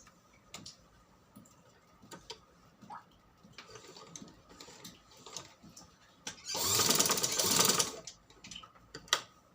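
A sewing machine stitches fabric for a fabric butterfly craft, giving a short close burst of rapid mechanical whirring after scattered ticks and handling clicks.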